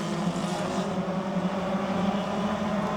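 Mini stock race cars racing at Toyota Speedway, a steady dense engine roar from several cars at once, held at an even level throughout with no pauses or talk.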